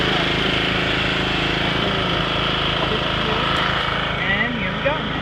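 A 1995 John Deere GX 75 riding lawnmower engine runs at a steady, loud, close drone that holds level throughout without pauses.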